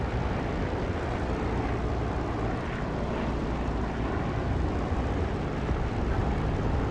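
A dense, constant roar of an aircraft engine on a runway in the DCS flight simulator, loud and unbroken throughout, a broadband rumble with no pauses or voices.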